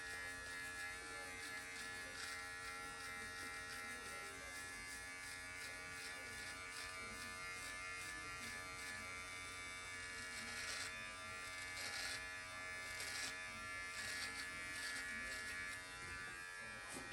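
Electric precision beard trimmer buzzes steadily through a shave, close and continuous at a low overall level, with slight changes in tone as it moves across the face.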